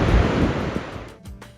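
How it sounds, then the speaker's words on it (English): A powerful waterfall in snowy North Iceland roars with a dense, close rush of falling water that eases slightly toward the end. "this unstoppable waterfall that felt like it could shake the ground"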